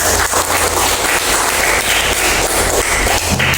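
A group applauds a person during a school physical fitness session, a dense, loud, continuous patter of many hands clapping close by with no talk over it.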